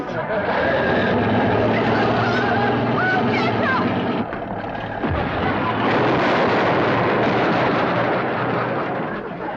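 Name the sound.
old truck crashing into chicken house, chickens squawking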